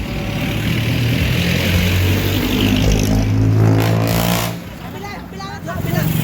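A car engine grows louder and rises in pitch as it passes close by, then drops away quickly, with voices mixed in.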